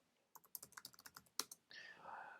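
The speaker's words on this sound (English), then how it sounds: "Typing the Docker commands" Docker commands being typed on a computer keyboard, heard as a quick, close run of about a dozen crisp key clicks with one harder tap near the end, followed by a soft hiss.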